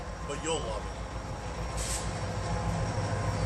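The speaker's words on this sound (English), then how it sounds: "Noisy train." A train rumbles past at moderate distance with a steady low roar and a faint metallic squeal, while someone talks over it.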